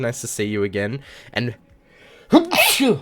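A single sharp sneeze bursts out near the end, loud and close, following a stretch of casual talk by a streamer.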